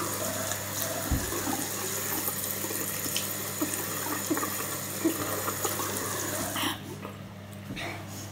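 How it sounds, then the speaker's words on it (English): Cold water runs steadily from a tap for several seconds with a constant hiss and splash, plus a few small knocks, before the flow cuts off near the end. "All I needed was some cold water."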